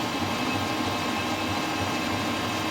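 A steady machine whir runs continuously, an even mechanical drone of a centre drill pecking gently into metal parts for a custom motorcycle, with no pauses.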